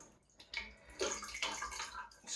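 Dirty water is squeezed by hand out of a Rainbow E2 vacuum's water basin, a quiet splashing and trickling that builds in short wet bursts, close by with no talking.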